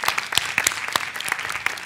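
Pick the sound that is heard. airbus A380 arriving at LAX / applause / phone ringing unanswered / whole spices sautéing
applause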